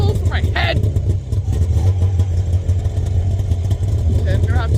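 A 1993 Arctic Cat 440 Jag snowmobile engine runs after a cold start, a steady, loud, low two-stroke drone close by, with faint voices now and then.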